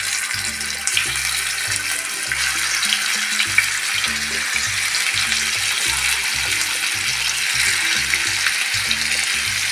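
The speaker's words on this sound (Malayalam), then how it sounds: "എന്നിട്ട് നമുക്കത് ചിക്കൻ വറക്കാം." Chicken fries in a pan on the stove with a steady, close hiss, broken by irregular low bubbling pops, continuous for several seconds with no voices.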